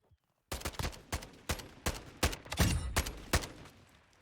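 Gunfire in the PUBG video game rings out as a rapid string of loud, sharp shots, about a dozen evenly spaced bursts over four seconds. It is close and punchy, with a brief louder cluster near the middle and no talking.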